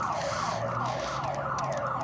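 A property alarm siren blaring in a residential alley off 17th Avenue, loud and continuous, its tone sweeping up and down in rapid repeating whoops over steady background rumble.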